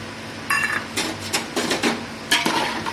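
A spoon stirring and scraping tomato with curd in a cooking pan while making Afghani pulao, giving a few clinking, scraping strokes at close range with no voices.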